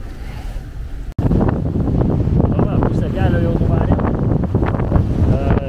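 Strong wind and rough sea on a sailboat in the Norwegian Sea, heading from Svalbard toward Norway, with steady loud roaring gusts and wave wash. A person speaks briefly over it, and there is a short sharp dropout early on.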